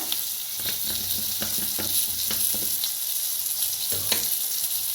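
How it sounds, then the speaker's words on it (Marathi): Green chillies roast in a pan, giving a soft steady sizzle with light stirring taps and scrapes close by and no talk. "हलक्याच्या मिरच्या भाजत यायला आले ते बघा"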